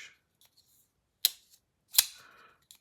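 A Kaiser Justice folding knife snaps open and shut with two sharp, crisp clicks about a second apart, alone in a quiet room with faint handling noise between them.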